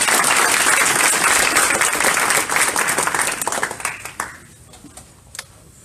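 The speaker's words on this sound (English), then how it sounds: "Let's give them a round of applause." Audience at a blockchain meetup presentation breaks into loud, dense clapping that thins out and fades to a few scattered claps.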